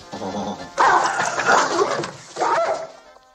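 A dog barks and yips loudly up close in two bursts, the first longer and the second shorter, with a whimpery edge and no talking over it.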